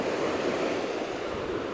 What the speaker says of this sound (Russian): Слышите, как шумит? Море волнуется, раз.